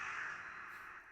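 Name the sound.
crow cawing in Attack on Titan anime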